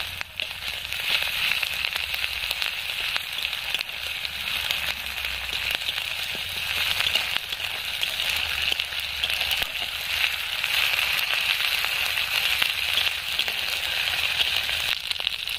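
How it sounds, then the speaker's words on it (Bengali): Onions sizzling in hot oil in a pan for Bengali doi katla, a steady close crackling hiss that continues evenly without pause. "পেঁয়াজটা খুব সুন্দর করে ভাজা হয়ে গেছে।"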